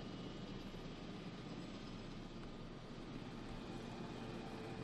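Helicopter flying in the video game Jurassic World Evolution, a steady droning rotor and engine roar that holds at an even level throughout, with no talking.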